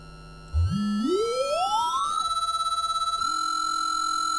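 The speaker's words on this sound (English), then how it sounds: "So that's actually the real aliasing frequency." Pure digital test tone sweeping upward in pitch, with aliased partials folding back as a harsh, trashy second layer, then settling into steady tones with a slight pulsing; clean and synthetic, no voices.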